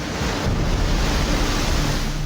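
Strong waves from Super Typhoon Pepito surge and roar along the Catanduanes coast in a continuous, loud wash of surf, with wind buffeting the microphone.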